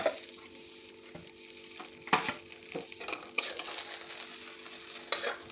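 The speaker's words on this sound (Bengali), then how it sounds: "এদিকে আলু সিম ভাজা হচ্ছে" Potatoes and flat beans frying in a home kitchen pan, sizzling at a low steady level and interrupted by scraping stirs and a few sharp clinks of a utensil against the metal.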